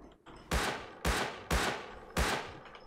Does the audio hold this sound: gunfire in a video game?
yes